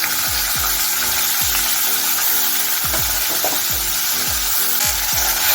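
Cauliflower and carrots frying in mustard oil in a pan, a steady sizzle with repeated scraping and stirring strokes from a spatula in a regular rhythm, close and alone.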